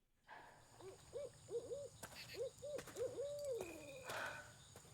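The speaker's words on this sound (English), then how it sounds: "I hear that barred owl. Who cooks for you?" Barred owl hooting in the video game South of Midnight, a run of rhythmic, rising-and-falling hoots repeated several times at moderate distance over a quiet night ambience.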